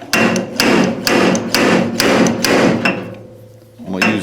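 A steel body hammer taps a dented panel on an MGA barn-find car, landing about eight sharp, evenly spaced metallic blows up close, a short pause, then one more strike.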